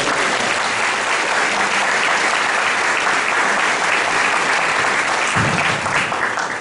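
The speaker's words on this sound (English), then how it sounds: "if we could give her a round of applause" A roomful of people at a congressional immigration town hall meeting breaks into loud, sustained applause, dense and even for the whole stretch before tapering at the very end.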